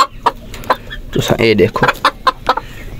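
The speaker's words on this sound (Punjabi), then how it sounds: "ਬਿਲਕੁਲ ਬਿਹਤਰੀਨ ਮੁਰਗੇ ਅਤੇ ਇੱਕ ਮੇਲ ਅਤੇ ਇੱਕ ਫੀਮੇਲ ਹੈ" A rooster and a hen cluck in a series of short, close, sharp calls, with a louder run of clucking in the middle while someone talks over them.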